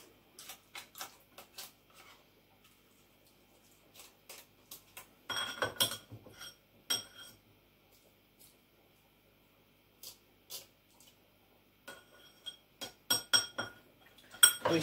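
A spoon stirs tinned pet food with gravy in a dish, giving quiet scattered clinks and scrapes in bursts separated by near silence, close and soft.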